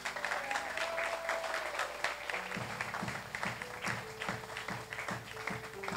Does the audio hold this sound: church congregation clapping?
yes